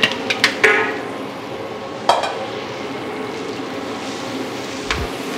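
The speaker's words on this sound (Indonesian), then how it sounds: "ini kita tumis dulu ya, sampai mateng" Shallots, spring onion and fiery bird's eye chili stir-fry in a pan, with a steady sizzle under sharp clinks and scrapes of a metal spatula, a few quick strikes early and another mid-way, close and fairly loud.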